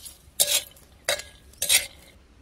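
Cumin seeds dropped into a hot pan already roasting garlic cloves and green chillies, giving three short bursts of sizzling and stirring scrapes with quiet gaps between, close and fairly soft.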